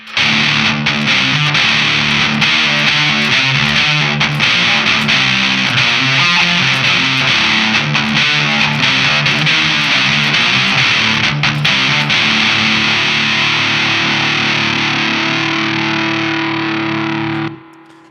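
Electric guitar played through a Walrus Audio Fundamental Distortion pedal, thick and creamy with heavy saturation, loud chunky chords and riffs ringing continuously for about seventeen seconds before cutting off.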